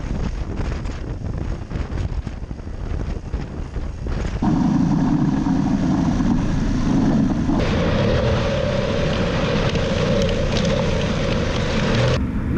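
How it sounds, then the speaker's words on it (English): A BMW F850GS Adventure motorcycle rides a twisty, dusty gravel road in the Spanish countryside, its engine a steady drone under heavy wind buffeting, which rises into a stronger, fuller roar partway through, with no talk. "Now we're riding a twisty and dusty gravel road in the Spanish countryside"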